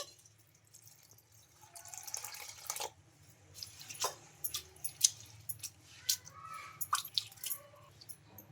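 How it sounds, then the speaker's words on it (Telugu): Water sloshes and drips in a bowl as flattened rice is rinsed and squished by hand, with scattered splashes and trickles over several seconds. "ఈ అటుకుల్ని ఒక రెండు సార్లు శుభ్రంగా వాష్ చేసుకోవాలి"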